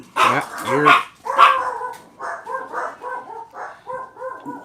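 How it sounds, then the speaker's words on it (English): Several dogs bark repeatedly as family members arrive home: a few loud, close yaps and then a steady run of quicker, lighter barks, with no talking over them. "dogs barking"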